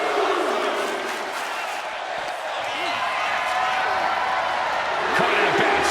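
An arena crowd roars in the WWE 2K25 wrestling game, a continuous loud cheer under commentary, with a slam-like thud near the end.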